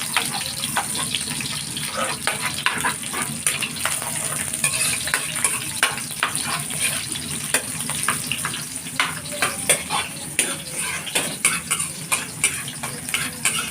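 Onion sautéing in hot oil in a pan for ginataang sigarilyas, a steady close sizzle with frequent sharp scrapes and clinks of a utensil stirring throughout, no voices.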